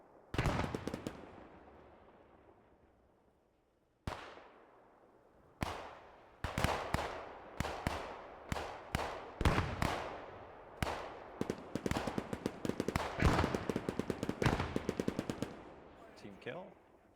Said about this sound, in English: Damn, these Bren guns.